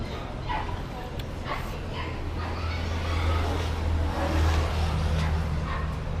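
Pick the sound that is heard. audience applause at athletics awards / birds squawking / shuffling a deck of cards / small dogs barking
small dogs barking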